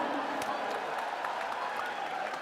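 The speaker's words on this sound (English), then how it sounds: "Round of applause to Mark." An audience at a Dota esports tournament, the Manila Masters upper bracket final, applauds in a steady, fairly faint wash of clapping that lasts throughout, with a few sharper individual claps.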